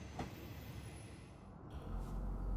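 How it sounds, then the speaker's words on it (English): Train climbing the valley into Tsubojiri Station, a low rumbling roll of wheels on rails with occasional clicks, heard at a distance and swelling gradually louder as it approaches. "So this is the train going up the valley"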